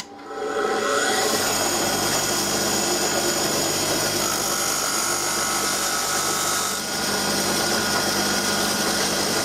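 A bench grinding wheel sharpens a stick of chalk in a forge workshop, giving a loud, steady abrasive whine and grinding that runs nearly unbroken throughout, dipping briefly before resuming.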